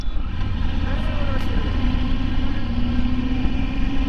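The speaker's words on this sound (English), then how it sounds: "But a lot of trucks on the road right now" Steady loud rumble of trucks and other vehicles on a highway in India, with engine drone and road noise filling the scene and a brief higher engine whine partway through.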